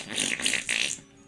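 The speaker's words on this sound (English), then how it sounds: "Thank you for punctuating my triumph with a gross wet fart noise." A gross, wet fart sound effect from a video game: a few loud, squelchy sputtering bursts back to back that cut off abruptly into quiet, with no talking.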